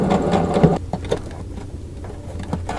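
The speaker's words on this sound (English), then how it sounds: "I'm going to go ahead and sew them." A sewing machine runs in a steady whir as it stitches pieces of a carpenter star quilt block made from half-square triangles, loud for under a second and then quieter and intermittent, with no talking.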